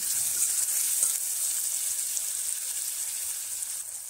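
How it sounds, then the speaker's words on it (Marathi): Finely chopped tomato cooks in oil in a pan with a steady, fairly even high sizzle and a faint stirring knock or two, close by and without voices. "आता बारीक चिरलेला टोमॅटो घालून घेऊ। टोमॅटो चांगला मऊ शिजून घेऊ।"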